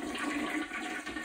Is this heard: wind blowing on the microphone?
no